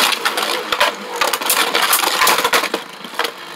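Rage Longinus and Legend Spriggan Beyblade spinning tops clash in a stadium, making a dense, loud, continuous metallic clatter and scraping with rapid sharp hits.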